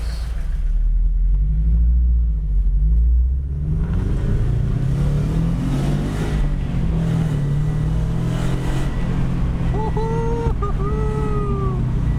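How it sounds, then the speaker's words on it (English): A Toyota GT86 on a road test around the block, a low engine rumble that rises as the car accelerates and shifts, with a faint high squeal near the end. "Just a quick road test around the block and we'll see how she drives."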